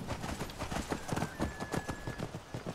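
Rhythmic horse hoofbeats clip-clop at a steady trot in Skyrim, fairly close, with a faint high tone in the background and no talking.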